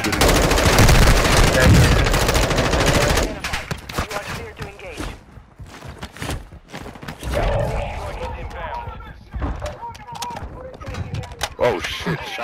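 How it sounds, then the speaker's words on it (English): Rapid video game gunfire, including automatic bursts and shotgun blasts, rattles loudly at the start and then returns in scattered shots under excited players' voices. "Somebody's shooting."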